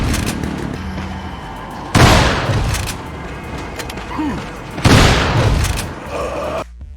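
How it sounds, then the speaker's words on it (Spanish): Shotgun blasts from the Resident Evil 4 beta video game, two loud booming shots a few seconds apart, each trailing off over a steady game background. "Y lo mismo con el efecto de sonido de la escopeta."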